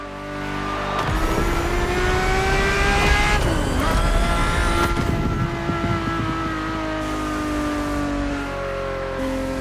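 A Ferrari engine in The Crew Motorfest racing game revs and accelerates through rising gear pulls, a loud, close, high-pitched wail with shifts and no voices.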